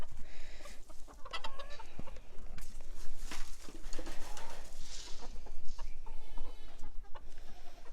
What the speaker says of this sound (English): I'm going to feed some of this to these bannies